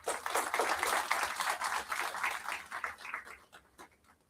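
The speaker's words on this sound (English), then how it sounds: "Can we have a round of applause for them?" Audience at an energy industry summit gives a round of applause for a committee, a dense burst of clapping that swells quickly and then thins out and fades over a few seconds, with no talk over it.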